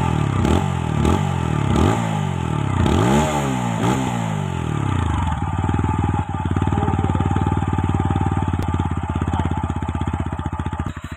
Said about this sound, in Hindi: पहले उसका इंजन साउंड चेक कर लो।